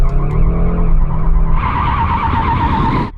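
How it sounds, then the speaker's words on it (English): Tires skid and squeal loudly on pavement as a car warms them before a drag race, with the engine droning underneath, then a sharper, brighter screech in the second half, close and with no talking. "now let's get on with warming up our tires"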